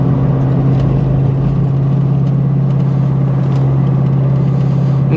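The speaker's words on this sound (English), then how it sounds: "They have that 2100 RPM resonance through the cabin of the car, which is that drone" A Flowmaster exhaust drones inside a car cabin at 2100 RPM, a loud, steady low-pitched resonant hum that persists unbroken throughout.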